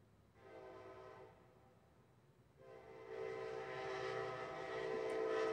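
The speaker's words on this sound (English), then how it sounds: "I know y'all can probably hear that train." A passing train sounds its horn, a sustained harmonic blast that rises and swells louder over several seconds, heard alone at a moderate distance outside a shop.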